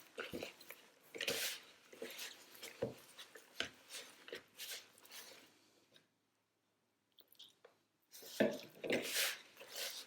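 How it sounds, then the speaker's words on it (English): Hands squeeze and knead wet bread dough made from soaked stale bread and flour, giving soft squelching, sticky pressing sounds in irregular bursts, close up, with a brief quiet pause midway. "Squeezing the dough so that I'm making sure there's no dry bits."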